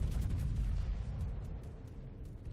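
Naval gunfire from the battleship North Carolina in a video game: a dense, low rumbling roar of heavy guns that starts strong and slowly fades, with scattered crackles on top and no talk.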